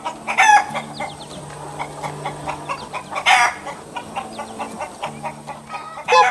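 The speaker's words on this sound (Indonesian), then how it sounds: "ayam kecil yang sedang mencari makan di tengah rumput hijau" Small chickens cluck repeatedly while foraging in green grass, with a rooster crowing briefly and other birdsong around; the calls come in short irregular bursts, fairly close, with no talking.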